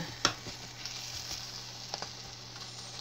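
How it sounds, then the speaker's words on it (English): Chicken gravy simmers quietly in a pan with a soft low sizzle, with a few light clicks and a faint steady hum underneath. "let this simmer just a little bit"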